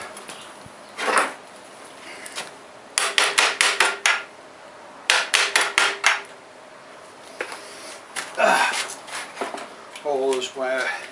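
A hammer chips material off a garden obelisk in clusters of sharp, ringing blows, several quick strikes at a time separated by pauses, close and loud, with someone talking near the end.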